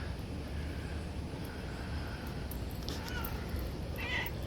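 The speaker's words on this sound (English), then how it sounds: "Below me, I have an annoying stray cat that decided it lives here." A stray cat meows faintly once or twice near the end, over steady outdoor wind and background noise in a garden.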